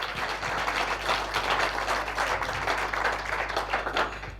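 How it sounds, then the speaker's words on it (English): A seated audience gives a round of applause after a leadership talk, with moderately loud, continuous clapping that swells and dips slightly with a low room hum underneath. "let's give him a big round of applause."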